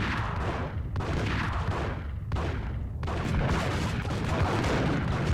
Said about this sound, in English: So I start shooting